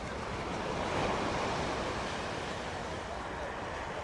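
Sea waves wash steadily onto Digha beach at night, a broad continuous surf roar with a light breeze, with no voices.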